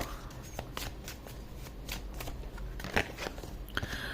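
A deck of cards is shuffled and cards are drawn for a tarot-style reading, producing a run of quick, crisp riffling snaps and flicks close by, with faint talk beneath.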